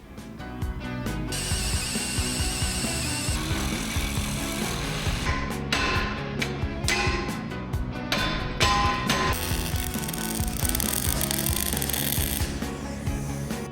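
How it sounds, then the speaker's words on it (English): Power drill boring 3/4 inch holes in steel brackets for a Jeep Cherokee XJ, a continuous loud whining grind with brief stops and restarts, close and without talk. "Drilled all the holes out to 3/4 inch."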